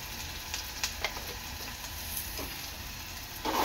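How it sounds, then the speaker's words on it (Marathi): Chopped onion with salt frying in a pan for soybean curry, a steady soft sizzle with a few light clicks of stirring and a louder burst near the end, no voices. "कांदा चांगला लाल होईपर्यंत शिजवून घ्यायचा आहे।"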